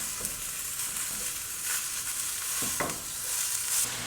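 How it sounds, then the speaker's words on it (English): Ground pork browns in a pan for an egg roll in a bowl, giving a steady, moderately quiet sizzle with a few soft stirring scrapes and no voices. "then we're gonna start browning our pork"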